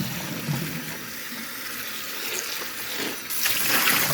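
Cucumbers rinsed under a running kitchen tap, a steady close wash of water that swells louder near the end, with no one talking.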